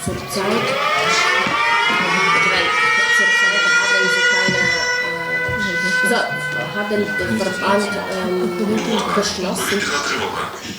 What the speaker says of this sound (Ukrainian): Сьогодні сирена повітряної тривоги пролунала впала просто посеред їхньої зустрічі з керівництвом області.